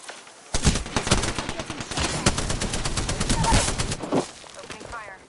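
Rapid bursts of automatic gunfire in the video game Apex Legends, loud and dense for several seconds, then ending with a short trailing sound effect.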